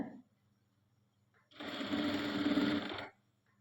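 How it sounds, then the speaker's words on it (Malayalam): One short burst of sewing machine stitching on a kaftan nighty, a close, buzzing run of about a second and a half set between quiet moments. "ഇതുപോലെയാണ് ഫുള്ളായിട്ട് സ്റ്റിച്ച് ചെയ്ത് കൊടുക്കുന്നത്."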